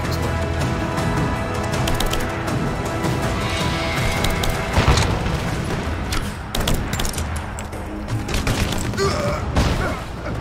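Explosions and crackling debris in the video game Rise of the Tomb Raider, a dense run of sharp bangs and splintering bursts, loud and close, continuing in irregular clusters for about ten seconds.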